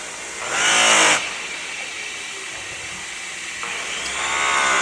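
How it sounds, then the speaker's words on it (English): A powered polisher buffs the edge of a truck wheel with a continuous loud whine and whirring hiss. The sound rises briefly at the start and again near the end. "I do buff this little edge"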